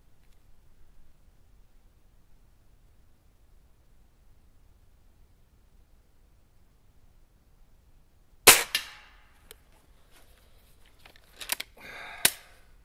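Gamo CFX .22 air rifle firing after a long quiet stretch, one sharp crack followed by a few lighter clicks and snaps of handling and cocking, close by.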